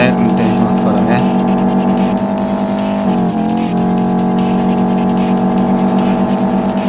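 A car cruises along the Shutoko expressway in a 3D driving-school game, with a loud, steady engine drone filling the whole stretch. Near the middle the pitch dips briefly before the constant hum resumes.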